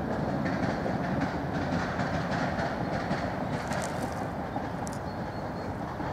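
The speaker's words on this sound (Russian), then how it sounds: "по левому берегу еще ездит трамвай" A tram running along the left bank of the Dnipro in Kyiv, near the DVRZ district, makes a steady, continuous rumble with faint rail clatter, heard from moderate distance at even loudness and with no voices over it.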